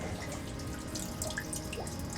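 Filtered RO/DI water from a saltwater mixing station line runs steadily down into a container, a constant close trickling and dripping with no voices.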